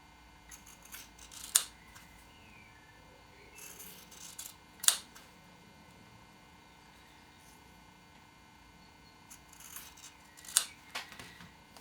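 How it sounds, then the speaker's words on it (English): Scissors cut along the edge of a freezer paper square pressed onto a four-patch quilt fabric, giving three sharp, separate snips spaced a few seconds apart, close up over a quiet room hum. "simply using my scissors, I cut along the edge of the freezer paper square"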